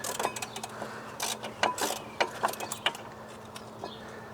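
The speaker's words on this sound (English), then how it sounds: "3/8 ratchet. And then we'll make quick work of removing this caliper." A 3/8 ratchet clicks in short irregular bursts while a brake caliper is removed from a Ford C-Max, with close, fairly quiet mechanical ticks and pauses between strokes.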